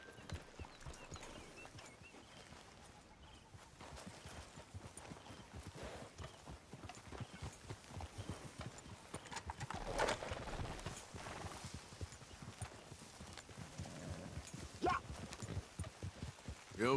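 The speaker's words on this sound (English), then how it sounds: "Mira qué bonito el caballo de él" Horse hooves clip-clop steadily in Red Dead Redemption 2, a continuous rhythmic walking beat at moderate distance, with faint ambient game sound and brief louder moments around the middle and end.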